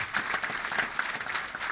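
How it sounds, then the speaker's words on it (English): An audience at a city council meeting gives a round of applause, a steady wash of clapping from many hands heard at moderate distance and fairly subdued. "Let's give them a round of applause."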